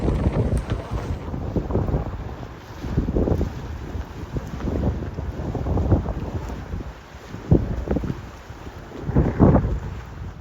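Strong wind on the deck of a tall ship buffets the microphone in gusts, rumbling and roaring in waves over a constant airy background, with no voices.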